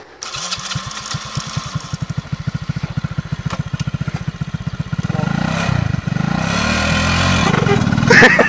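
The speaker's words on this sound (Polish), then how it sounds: "Leciutko puszcza sprzęgło, dodajesz gazu." A car engine starts with a rapid stuttering chug, settles into a rough idle, then revs up steadily and loudly as the clutch is released and the car accelerates.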